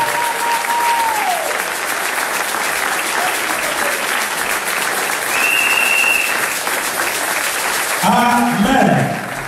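A church congregation applauds loudly and steadily for several seconds, a dense wash of clapping, with brief tonal sounds and a voice breaking through near the end.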